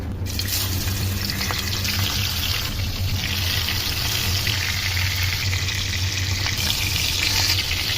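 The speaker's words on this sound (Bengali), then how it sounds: "তেলটা গরম হয়ে গেছে, আমি এখন ভেজে নিব।" Chili-powder-coated food frying in hot oil, a loud, continuous hissing sizzle that holds steady from start to finish with no talking.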